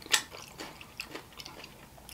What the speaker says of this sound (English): The cinnamon toast crunch still has crunch to it.